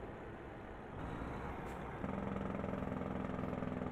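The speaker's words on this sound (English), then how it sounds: "it's called an engine brake in the game, but in real life you might call it a Jake brake or a compression brake." A heavy truck's engine brake (Jake brake) in a trucking simulator game, heard as a steady, loud low engine drone that deepens and grows stronger partway through, with no talking.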